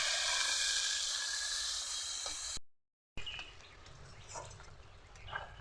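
Onions fry in a pan for a goat meat curry, a close, steady hissing sizzle with small crackles. The sound cuts out briefly midway, then returns softer and more uneven.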